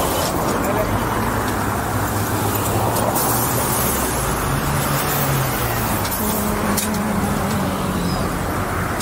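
Street traffic on a Puerto Vallarta road, with cars and heavier vehicles rumbling past close by in a continuous roar, engine drones rising and falling as each passes; a person talks over it.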